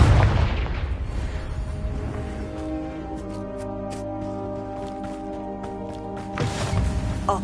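In the Hogwarts Legacy video game, a Confringo fire spell goes off as a deep booming blast, followed by a ringing, sustained tonal tail and another low burst near the end.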